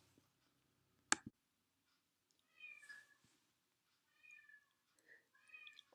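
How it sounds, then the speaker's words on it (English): A pet cat meows several times in the background of a quiet room, short drawn-out cries at modest volume, with a single sharp click just before them. "You can hear my cat meowing in the background."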